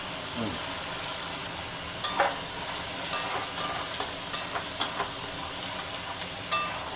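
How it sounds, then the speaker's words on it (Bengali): Chopped onions frying in hot oil with kalo jeera, a steady soft sizzle broken by several sharp scrapes and taps of a spatula against the pan, close up with no speech. "পেঁয়াজটা একটু ভাজা ভাজা হচ্ছে"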